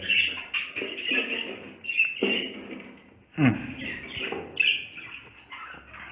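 Medina doves in a large cage give chirps and tweets mixed with low cooing, close by and fairly steady, while a person talks throughout.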